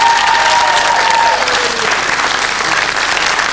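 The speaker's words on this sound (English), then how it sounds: "Big round of applause." Studio audience applause on a quiz show: a steady, dense clatter of many hands clapping close by, fading slightly toward the end.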